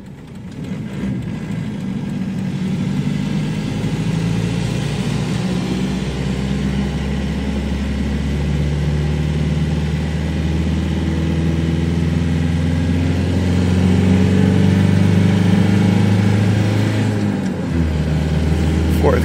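A Dodge Dakota fitted with a TDI ALH diesel engine pulls steadily in gear at part throttle, a constant low droning hum heard from inside the cab with faint rising tones.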